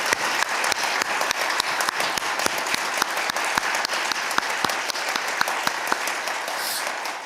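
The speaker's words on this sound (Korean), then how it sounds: "우리 목사님께 감사하는 마음으로 뜨거운 박수를 한번 하도록 하겠습니다" Congregation applauding during a Wednesday church service, steady rhythmic clapping close and continuous for several seconds, with a faint voice beneath.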